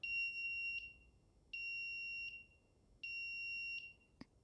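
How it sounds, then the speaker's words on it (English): An Arduino PIR motion-activated alarm buzzer gives three loud, shrill, steady beeps of under a second each, evenly spaced with short silent gaps, followed by a single sharp click. "you'll notice that there's a loud, obnoxious beeping sound and an LED flashing to go along with it"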